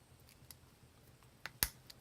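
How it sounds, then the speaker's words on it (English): Top piece of a tumbler lock core snaps into place with one sharp close click after a few faint small clicks and handling taps, very quiet overall. "snap it down on there."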